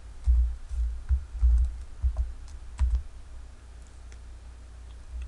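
Computer keyboard and mouse in use while entering a formula in an Excel spreadsheet, a few soft, close taps and clicks spaced irregularly over a low steady hum, no talking.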